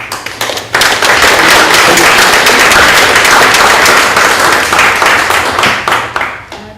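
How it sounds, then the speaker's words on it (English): An audience at a talk on fracking claps loudly, a dense burst of applause that swells quickly, holds for several seconds and then thins out. "Give me a round of applause."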